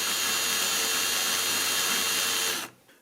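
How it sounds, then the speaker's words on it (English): A power drill bores a pilot hole into a wooden picture frame, whirring loud and steady for a few seconds before the motor cuts off and spins down. "You want to make sure you drill the hole exactly perpendicular to the face of the frame"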